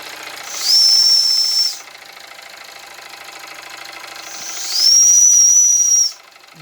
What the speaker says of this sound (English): See if our recently unblocked whistle will work.